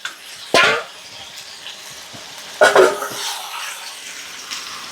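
Water, with curd and potatoes, goes into a cooking pot for a home-style country chicken curry, heard as two short splashing pours against a quiet kitchen background.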